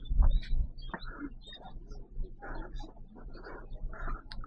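Pigeons near a nipa hut at Garin Farm in Iloilo give soft, intermittent coos and chirps outdoors, with low bumps and handling noise near the start and quiet stretches between calls.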